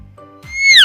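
A short whistled bird call, tonal notes sliding downward, loud and close after a brief low-pitched lead-in, heard alone in an educational piece on living things.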